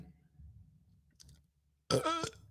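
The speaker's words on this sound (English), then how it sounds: "Just give me the burps." A single loud, close, buzzy burp after Diet Coke erupts from near silence and lasts about half a second.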